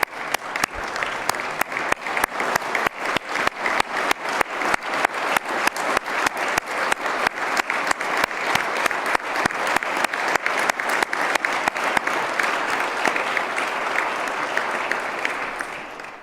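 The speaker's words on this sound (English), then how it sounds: "Why don't y'all stand up so we can give you the applause that our heroes deserve." Long, loud applause from a large audience at a Kentucky governor's State of the State address, honoring heroes including firefighters. Dense clapping with sharp individual claps standing out persists steadily for about sixteen seconds.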